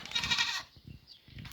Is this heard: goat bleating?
yes